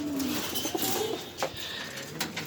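Ice pigeons cooing at close range, soft rolling coos repeating over a faint background.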